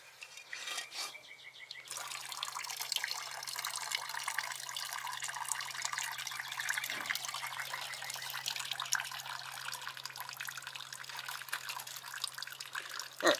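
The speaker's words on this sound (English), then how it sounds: "let that finish draining out" Dirty solvent draining out of a used parts washer: a steady, quiet trickle of liquid running continuously, with a low hum beneath and a few faint knocks.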